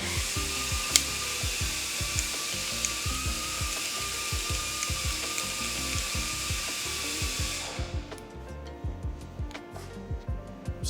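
A click-type torque wrench tightens bolts on a Porsche 930 engine, giving a close, rapid run of ratcheting clicks over a steady background hiss, which drops away near the end.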